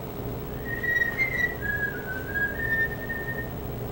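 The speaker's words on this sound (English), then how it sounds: "See if you can whistle loud enough for us to hear." A person whistles loudly inside a residence in West, Texas, a wavering sustained tune of a few gliding notes lasting several seconds, with no talking.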